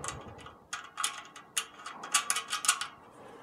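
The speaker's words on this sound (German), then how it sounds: "und dann mit dem dabei gelieferten Schraubenschlüssel angezogen." A supplied wrench tightens nuts while a SOGAMBO ceramic grill is assembled, giving quiet bursts of ratcheting metal clicks in uneven clusters, close by, with no voices.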